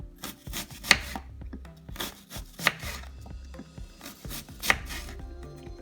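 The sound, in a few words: slicing raw garlic into thin slices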